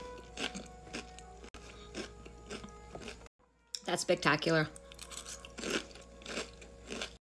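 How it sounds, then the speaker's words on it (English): Farmhouse Cheddar Crispy Minis tortilla chips are crunched as they go onto mac and cheese, giving a dense burst of crisp crackling in the middle. Talk comes before and after it. "Let's put that on top of the mac and cheese for some crunch."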